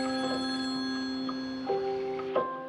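A telephone rings with a sustained electronic tone that shifts pitch in steps, clear and continuous against a quiet background, with no voices.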